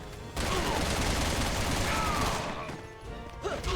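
Dense, sustained gunfire from the video game Resident Evil 6 fills most of the stretch, loud and continuous, then thins out toward the end with scattered game effects.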